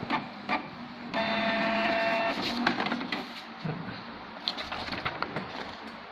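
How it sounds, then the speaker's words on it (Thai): A Canon G2010 inkjet printer prints a status report. It gives close mechanical clicks and rattles, then a sustained motor whine for about a second, followed by more uneven feed clatter and knocks, with no talk. "กดปุ่ม power ครับ มันก็จะพิมพ์ ใบรายงานออกมานะครับ"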